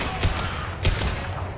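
Two spaced, heavy shots from a slow-firing gun in Mass Effect 2, each a loud broadband blast about half a second apart over constant combat noise.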